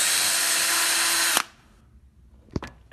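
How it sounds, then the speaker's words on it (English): A pedestal bench grinder whirs loudly at steady speed, a dense broadband hum that cuts off abruptly partway through, followed by near-quiet with a couple of short clunks. "you're gonna need a pedestal grinder or a benchtop grinder"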